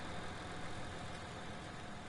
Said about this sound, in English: You'd hear it better if I wasn't having the engine running.